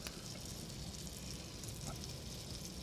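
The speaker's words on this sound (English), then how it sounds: "You want it hot like that because you want it to really Sear." Food sears in hot butter and olive oil in a pan, giving a faint, steady, even sizzle with no voices over it.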